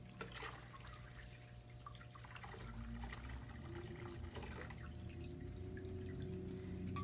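Hot water is poured and trickles into a foot bath, a faint, continuous splashing and dripping with a low hum underneath.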